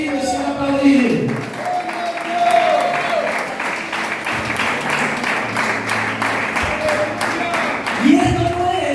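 A church congregation applauds steadily throughout, dense clapping with a preacher's voice speaking over it at the start and near the end.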